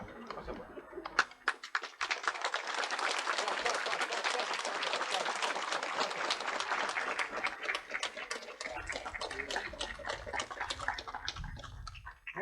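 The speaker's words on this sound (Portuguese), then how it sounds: "quando desatarem a fita, nós poderemos bater palmas" A church congregation bursts into sustained clapping after a ribbon is cut, a dense roomful of applause lasting several seconds before tapering off, with pigeons cooing faintly nearby.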